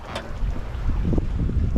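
A boat's engine drones low and steady beneath gusting wind and microphone buffeting while crossing the North Sea, with splashing water throughout.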